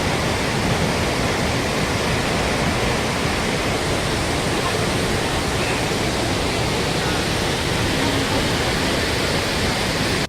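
Victoria Falls in Zimbabwe thunders with a dense, unbroken roar of falling water, loud and steady with no pauses or other sounds.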